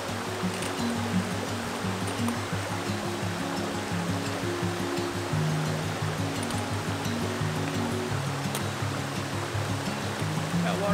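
Steady rushing water of Seneca Creek in West Virginia flowing at a hiking crossing, a dense continuous babble and splash that stays even and close throughout.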